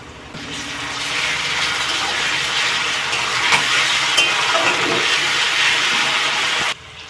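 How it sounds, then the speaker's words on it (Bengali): Chopped onion with a spoonful of ginger-garlic paste sizzles steadily in hot oil for a moisture-rich fish-head moong dal base, a spatula stirring and scraping the pan throughout before the sound cuts off near the end. "এবার আমি 1 চামচ আদা রসুনের বাটা দিয়ে দেব। ভালো করে ভেজে নেব।"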